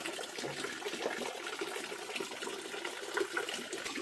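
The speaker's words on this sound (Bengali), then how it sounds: "ছোট্ট একটা ফুটো রয়েছে পাথরের মাঝখানে, সেখান থেকে জলটা পড়ছে।" Drinking water trickles from a small hole in the middle of a rock in a cave garden near Cherrapunjee, Meghalaya, a steady splashing wash that continues evenly with no one talking.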